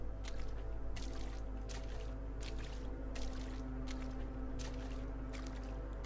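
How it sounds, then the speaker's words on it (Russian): Water splashes in the horror game Coma: Mortuary, a run of separate sloshing bursts spaced irregularly over a steady low ambient hum. "Да, всплески воды."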